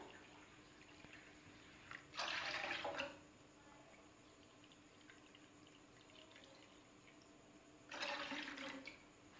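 Two cups of water splash into a pan in two brief pours, several seconds apart, while making pickled vegetables, with a quiet room hum between them.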